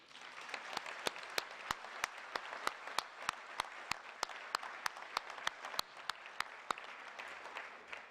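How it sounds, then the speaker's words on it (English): Sparse, distinct claps at a Waterloo graduation ceremony for the 2020 and 2021 classes, fairly quiet and steady, with individual hand claps standing out clearly rather than merging into a dense roar. "I'd like to give us all a round of applause for getting here."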